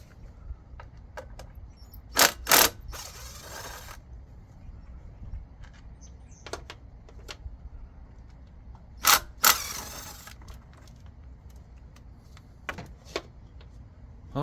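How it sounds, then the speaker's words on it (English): A Hitachi 18-volt 3/8-inch cordless impact driver rattles in two short bursts while removing bolts from a 2008 Nissan Altima 2.5L engine, with lighter tool clicks and handling sounds between, close and without speech. "It's an impact, so it helps remove nuts, bolts, screws, stuff."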